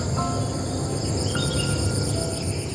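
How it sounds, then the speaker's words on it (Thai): Insects, including bees, fly around flowers on a cool winter morning outdoors. A dense, continuous buzzing and trilling drone holds at an even, moderately loud level throughout, with no voices. "กับเสียงพึ่งเสียงแมลงนะที่บินอยู่แถวนี้แหละ"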